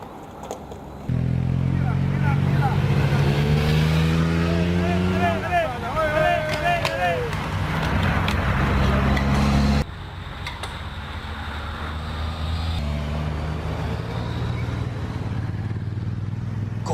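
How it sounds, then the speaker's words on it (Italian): A lead car for the Giro d'Italia passing spectators on the Zoncolan stage road: a loud vehicle engine roars up close and holds steady for several seconds, then eases, with crowd noise and voices around it. "Finalmente la macchina che segnala l'arrivo dei ciclisti"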